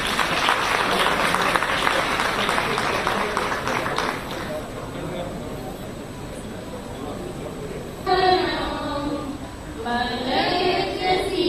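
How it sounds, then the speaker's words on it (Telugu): A gathered audience at a public women's event claps in sustained, dense applause for several seconds, fading to a softer crowd murmur, with a speaker's voice projecting over a loudspeaker near the end. "గట్టిగా చప్పట్లు కొట్టి మనం అందరం కూడా జయజయలు కొట్టుదాం"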